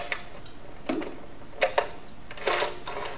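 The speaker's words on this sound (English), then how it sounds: "using a 9/16 socket and an extension, we'll loosen up the upper right and lower left" A 9/16 socket wrench on an extension loosens the pump nuts on a pressure washer, giving several short bursts of close, dry ratcheting clicks separated by pauses, with no talking.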